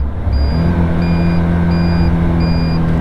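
The indicator on a Caterham Seven 170 with a Suzuki engine bleeps in an even high-pitched rhythm, four beeps over a steady idling engine.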